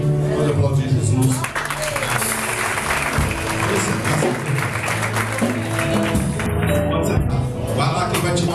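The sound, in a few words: applause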